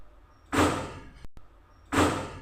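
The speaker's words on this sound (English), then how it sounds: "the door bangs" A door bangs shut twice, each a loud close thud with a short sweeping rush before it, separated by a brief pause.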